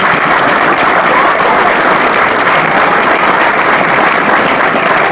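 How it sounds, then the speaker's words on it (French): A large audience at a public speech in Madinatou Salam breaks into loud, dense applause, a steady wash of clapping that holds at full strength from start to finish. "ça mérite d'être applaudi."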